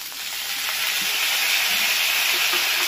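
Onion paste and ground spices fry and get stirred in a pan for a katla fish curry, a steady close sizzle with soft scraping, no voices.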